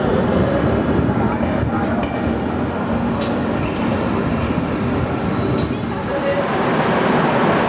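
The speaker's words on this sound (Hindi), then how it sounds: "11:12 पर हमारी ट्रेन पहुंची है जालना।" A passenger express train rumbles into Jalna station with a loud, continuous roar of wheels and carriages, punctuated by clicks and faint squeals as it rolls along the track.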